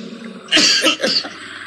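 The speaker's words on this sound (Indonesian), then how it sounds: "aduh batuk" A person breaks into a short fit of coughing and choking, two or three harsh, loud bursts close to the microphone and otherwise alone.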